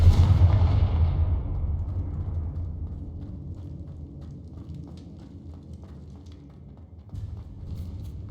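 A Confringo blasting spell explodes in Hogwarts Legacy, a loud booming blast that rolls into a long, decaying rumble, with faint debris-like crackles and a smaller thump near the end, no speech.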